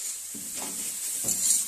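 Leafy greens sizzle in a pan during home cooking, with a soft steady hiss and a couple of stirring scrapes.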